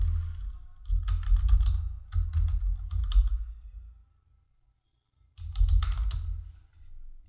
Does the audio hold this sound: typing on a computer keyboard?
yes